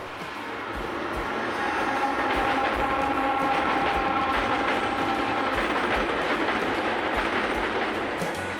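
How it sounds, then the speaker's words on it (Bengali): A train crossing overhead beside a riverbank, its rumble swelling in after the first second and holding loud and steady with a rhythmic clatter of wheels. "মাথার উপর দিয়ে একটা ট্রেন চলে গেল"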